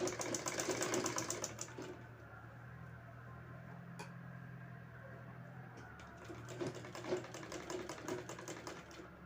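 A sewing machine stitches cloth for a designer potli pouch, its needle running in fast, steady mechanical bursts with short pauses, close and fairly loud, with no talking.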